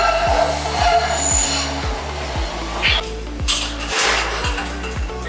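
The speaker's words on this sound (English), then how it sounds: "that's our train coming. The train." A train pulls in with a steady, rhythmic clatter of wheels, a metallic whine and a low rumble underneath.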